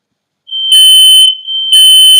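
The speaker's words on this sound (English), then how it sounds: "That alarm's gonna keep on going" A smoke alarm sounds loud and close in a shrill, piercing pattern: a high tone that rises into a harsher, buzzier blast, drops back briefly, then blasts again, with no speech.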